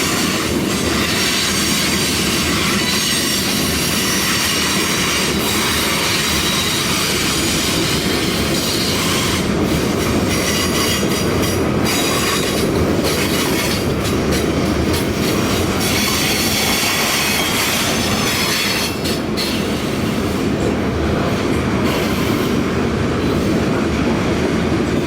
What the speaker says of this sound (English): Today, this train is the K82 Taylor to Binghamton, New York turn job that ran 5 and sometimes 6 days a week.